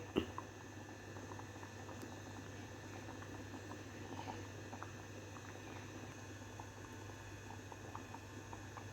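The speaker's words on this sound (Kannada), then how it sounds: "ಕುದಿಲಿಗತ್ತದ ನೋಡ್ರಿ." Dal fry bubbles in a pot on the stove with a faint, steady simmer and soft popping over a low background hum, quiet and continuous.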